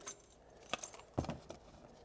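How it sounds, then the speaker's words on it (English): A spare set of car keys, found under the carpet of a long-abandoned Bricklin SV-1, jangles softly at close range in a few brief metallic shakes, with quiet gaps between them. "Spare set of keys he lost"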